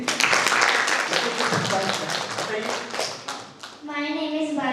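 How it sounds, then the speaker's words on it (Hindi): Children and adults in a seated audience clap in quick, uneven bursts at a Midbrain Activation event in Raipur. The clapping fades, a voice speaks briefly, and a voice begins near the end. "ताली बजा दीजिए।"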